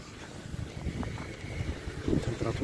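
Cold winter wind at about minus one degree gusts outdoors beside a truck, a low rumbling buffeting on the microphone that swells and eases, growing stronger toward the end.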